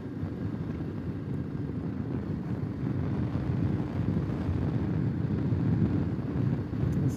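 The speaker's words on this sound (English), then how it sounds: "This is really windy." Strong wind at a coastal point in California, a constant low roaring rumble with buffeting across the microphone, steady and loud throughout with no other sounds.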